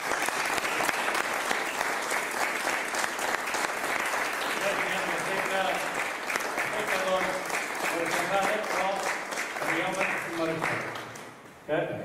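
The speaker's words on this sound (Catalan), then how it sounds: "demanaria un petit aplaudiment per elles" An audience at a poetry book presentation gives a long, full round of applause for the event's helpers. The clapping is strong and continuous, then tapers off while voices and other sounds come in before an abrupt end.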